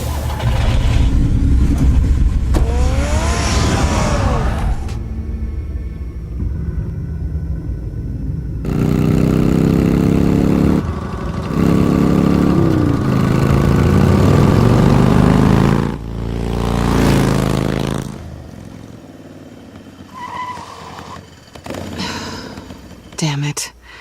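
In the Batman Telltale game, a car engine rumbles and revs loudly, rising and falling in pitch as it drives off, with whooshes and shifting road noise throughout and no talk.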